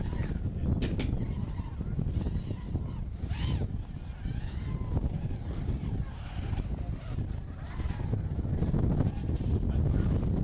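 Strong wind at an outdoor drone racing event buffets the microphone in a constant low roar, with faint voices and scattered honk-like sounds buried beneath the gusts.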